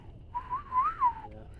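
A person whistles a wavering, rising-and-falling tone to imitate a whistling sound heard at night in the woods. It is one drawn-out whistle lasting about a second, close and clear against faint background hiss.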